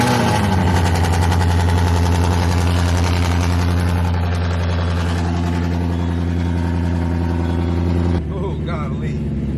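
A 2015-or-later Ford Mustang GT S550 V8 fires up and settles into a loud, rumbling idle through its exhaust, a deep steady drone close by that dips in level near the end.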